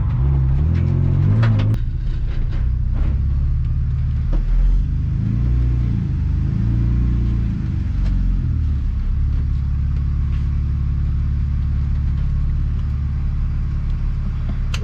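A BMW car's engine rumbles and revs in rising and falling surges while drifting, heard up close and loud, then holds a steady drone.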